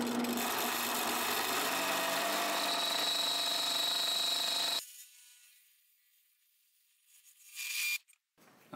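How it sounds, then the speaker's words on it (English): A drill bores out a metal belt-drive spur gear to 10 mm, giving a steady, loud, whining grind that cuts off abruptly midway, followed by quiet and a brief burst of noise near the end. "we're going to go ahead and try and drill this out to 10 millimeters so it'll slide on that shaft"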